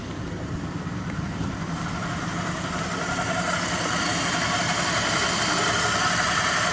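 Engine of a 1940 LaSalle Series 52 idling smoothly, a steady, close, even rumble with a constant low throb and slightly rising loudness, no talking over it.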